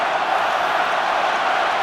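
A stadium crowd roars for Wales at a 2015 Rugby World Cup match against South Africa, a dense, steady wall of cheering with no clear voices above it.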